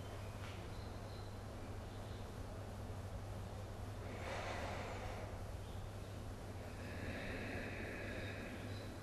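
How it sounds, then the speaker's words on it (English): Heavy qigong breathing during Wudang spear practice, a slow breath drawn in and let out, close and fairly soft over a low steady hum. "I'm just doing my breathing a little bit heavier so you can hear when I'm doing it and when I'm not doing it."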